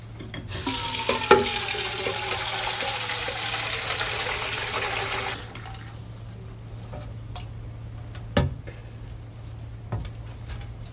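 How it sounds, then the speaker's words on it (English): Water pours steadily from a tap into a glass for about five seconds, a bright, hissing stream close by, followed by quiet room tone with a few faint clicks and taps. "Fill it with water."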